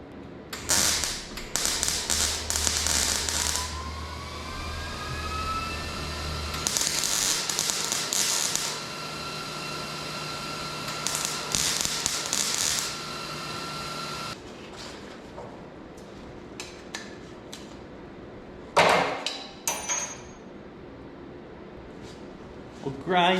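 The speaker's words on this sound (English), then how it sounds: "plug weld these and then figure out how we're gonna mount it" MIG plug welding on a sporty bobber motorcycle frame, run at lowered voltage and wire speed: several bursts of crackling, sizzling arc a few seconds each, with pauses of quieter shop noise between and a short sharp clatter near the end.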